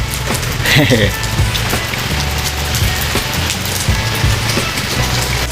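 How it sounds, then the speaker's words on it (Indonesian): Heavy rain pours steadily onto surfaces while sheltering at a mosque, a dense continuous hiss with scattered drips and a low rumble of passing traffic, loud and close throughout. "Kita kembali berteduh karena hujannya makin deras."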